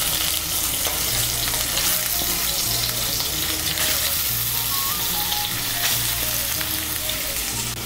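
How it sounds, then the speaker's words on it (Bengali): Soaked soybean chunks fry in leftover oil in a kadai after potatoes were fried, giving a loud, steady sizzle with occasional stirring, close up and without speech. "আলু ভাজার পর কড়াইতে যে তেল আছে, এই তেলের মধ্যে সোয়াবিনগুলো ভেজে নেব।"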